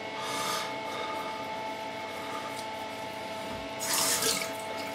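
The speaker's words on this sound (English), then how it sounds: "I'm just going to have a rub around with an alum block" An alum block is rubbed over a wet, freshly shaved face, with a soft, steady rasp heard close up over running water, which swells briefly near the end.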